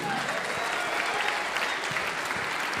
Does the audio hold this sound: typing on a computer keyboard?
no